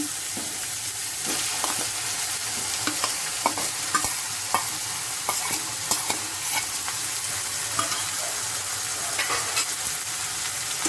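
Chicken paste sizzles steadily in a hot wok while a utensil scrapes and stirs in irregular clicks and scrapes, close and continuous with no talking.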